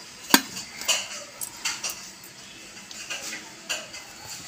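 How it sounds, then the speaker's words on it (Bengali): Metal clatters sharply a few times as a lid is set on a cooking pot of steamed pabda fish, with one loud clank followed by lighter taps and scrapes, fairly close and quiet overall. "ঢাকনা দিয়ে দেবো।"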